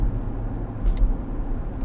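Jeep Grand Cherokee SRT V8 engine rumbling low and steady from inside the vehicle on a main road, a deep continuous drone with slight swells, no talking.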